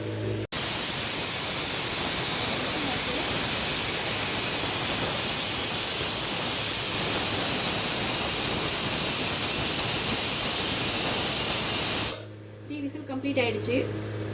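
A pressure cooker cooking potato rice lets out a loud, steady rush of hissing steam that holds for about twelve seconds and then cuts off abruptly, leaving a quieter room behind.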